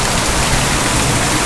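Heavy rain pours steadily during a thunderstorm in Naga City, Philippines, a dense, loud, continuous hiss of downpour with no talk.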